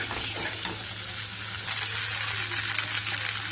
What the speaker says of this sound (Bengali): আদাটা দিয়ে একটু মেরে চেড়ে নেবো